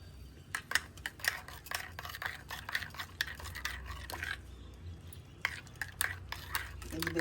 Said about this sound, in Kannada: ಇವಾಗ ಹಾಲಿಗೆ ಮಿಕ್ಸ್ ಮಾಡ್ತಾಯಿದ್ದೀನಿ